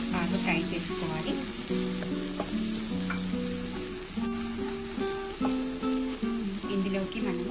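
Mutton frying hard with garlic and spice powder in a Mysore-style fry, a loud continuous sizzle under background music with sustained tonal notes throughout.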